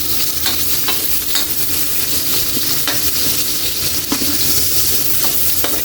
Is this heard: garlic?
yes